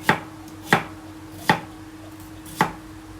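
A knife chops vegetables into small squares on a board, making four sharp, isolated thunks at slightly uneven intervals against a quiet background.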